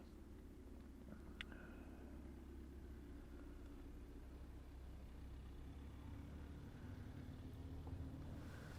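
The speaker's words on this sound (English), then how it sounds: "So I can hear other people just driving away now." Cars drive away outside and are heard through thin walls as a faint, muffled low engine rumble that holds steady throughout, with no talk.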